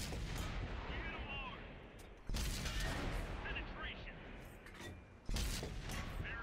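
Tank cannon fire in World of Tanks on console, an AMX 50 B duelling an E-75: two heavy booming shots about three seconds apart, each followed by a rumbling decay, with a voice talking over the battle noise.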